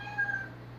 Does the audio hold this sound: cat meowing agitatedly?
yes